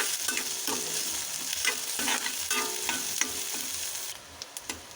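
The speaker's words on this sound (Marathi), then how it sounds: "आता कांदा घालायचा एक बारीक चिरलेला, चांगल्यापैकी हलवून घ्यायचं असं व्यवस्थित" Finely chopped onion with curry leaves sizzles and fries in a hot pan while a spoon stirs it in steady, repeated scraping strokes, close and continuous, with no one talking.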